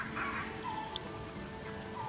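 A wild red junglefowl calls in forest near a camera spot, faint clucking notes amid a steady background hum, distant and brief.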